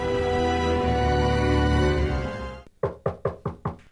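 A dense, loud music bed fades out, then a door is knocked five or six times in quick, sharp, evenly spaced raps, close by and alone, in a TV drama scene.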